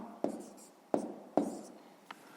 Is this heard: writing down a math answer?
yes